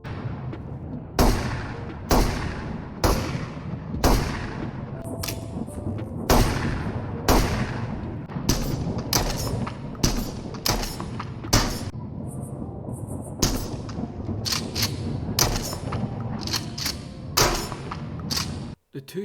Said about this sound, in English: Here's a clip of me using the shotguns,